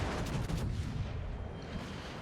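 Battleship Montana firing its main guns in a naval warfare video game, a dense, loud rumbling barrage of deep booming blasts with a sustained low roar throughout.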